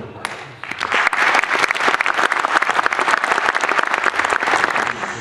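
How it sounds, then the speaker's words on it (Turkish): An audience at a poetry program breaks into strong, loud applause after a brief quiet moment, a thick continuous wash of clapping that holds steady to the end. "Ve çok güçlü bir şekilde alkışlayın"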